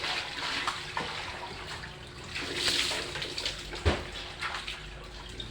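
Water scooped and poured with a dipper while bathing, splashing and trickling in uneven bursts close by, with one sharper splash near the end and no talk.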